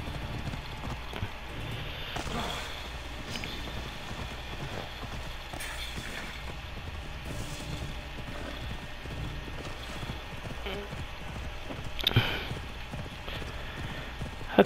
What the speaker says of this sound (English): I don't know what made me ride the horse all the way over here.